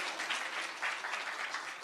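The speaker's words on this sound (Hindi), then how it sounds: "तो तालियों की गड़गड़ाहट से इस बात का अंदाजा हर किसी को लग जाना चाहिए कि मंच पर पवन सिंह हैं" Audience at a televised stage event applauding as a guest walks on, a dense, steady burst of clapping, moderately loud and without talk over it.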